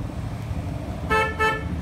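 Two short car horn honks, close together, over a low rumbling background hum.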